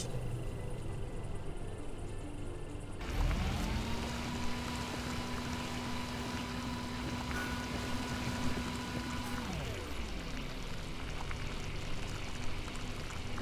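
Food cooking in the survival game Mr Prepper, a steady bubbling, sizzling sound with a tonal hum that starts abruptly, holds evenly for several seconds, then cuts off, alone without talk.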